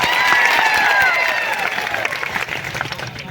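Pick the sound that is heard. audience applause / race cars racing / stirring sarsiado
audience applause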